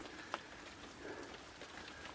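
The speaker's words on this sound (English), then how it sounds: "as the rain tips down" Steady rain falls at a carp fishing lake, a soft continuous hiss with scattered patters and one sharper drop, faint and close, with no voices.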